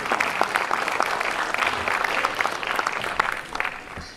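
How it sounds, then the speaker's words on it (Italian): Audience at a book presentation in Isernia clapping for the mayor, a sustained round of applause from a moderately sized crowd, dense and even, fading slightly toward the end. "un applauso al sindaco di Sernia e al presidente del consiglio regionale"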